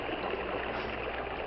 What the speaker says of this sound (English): Boulder Creek was a raging torrent.